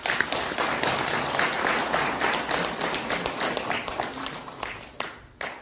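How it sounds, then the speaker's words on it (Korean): An audience at an academic seminar applauds with dense, sustained clapping that thins out toward the end into a few scattered claps. "다시 한번 큰 박수로 맞이해 주시기 바라겠습니다"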